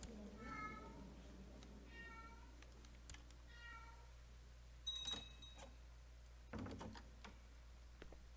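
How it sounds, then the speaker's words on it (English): A cat meows several times in soft, repeated calls over a low steady hum, followed by a few clicks and a brief thud; the sounds are faint and close. "What is the cat doing?"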